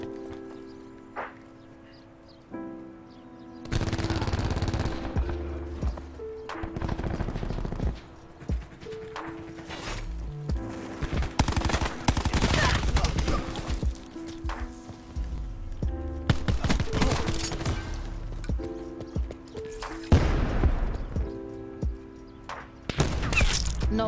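Rapid bursts of automatic rifle fire in a Black Ops 4 match, loud and close, with repeated volleys and brief pauses between them, no talk over it.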